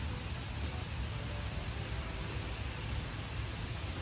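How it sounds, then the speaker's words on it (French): Heavy rain pours down steadily in Mauritius, a dense, even hiss of downpour that stays close and loud throughout with no voices. "Il pleut comme never"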